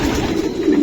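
A young racing pigeon at a loft coos close by, a low throaty murmur that rises and falls in a brief continuous burst.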